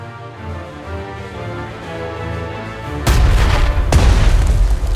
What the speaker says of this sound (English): Select the artillery and attack the enemy.